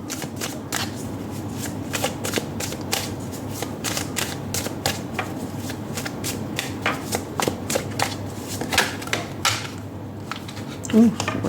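Tarot cards shuffled by hand in a long run of quick riffling bursts, steady and close, with short pauses and a few louder flicks near the end.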